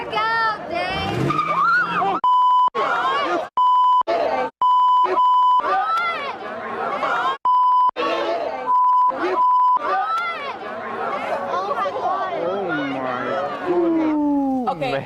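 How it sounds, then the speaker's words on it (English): Sharp, loud censor beeps cut in repeatedly over a father's cursing, in short bursts and clusters amid car sounds, tire squeals and excited voices. "all the beeps were the dad cursing"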